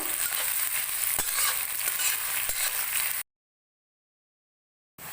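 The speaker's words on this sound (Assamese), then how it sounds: "আৰু এতিয়া এইখিনি অলপ ভাজি থাকিব লাগিব" Onions and bay leaves fry in hot oil in a kadai, giving a steady, close sizzle with a couple of soft stirring knocks. The sizzle cuts to silence partway through and returns briefly at the end.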